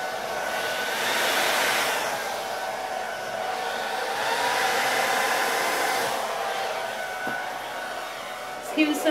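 A heat gun blows steadily on thick resin, a loud continuous whooshing roar that holds for the whole stretch with slight swells, ending with a few faint clicks.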